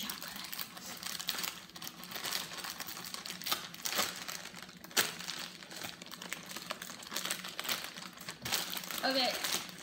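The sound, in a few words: crinkling of Hershey's chocolate bag being opened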